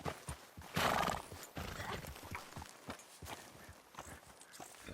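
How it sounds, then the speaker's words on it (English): Horse hooves clop in a quick walking rhythm in Red Dead Redemption 2, with a loud whinny near the start, heard fairly close and faint overall. "That's a nice horse."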